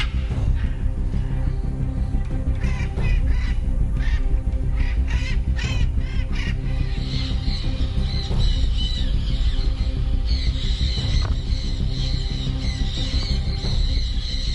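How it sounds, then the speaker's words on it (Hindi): Parrots in an aviary give a dense, continuous chorus of harsh squawks and calls, many birds overlapping at close range with no talk. "लेकिन ये तोते इस एवियरी को छोड़कर बाहर नहीं जाते।"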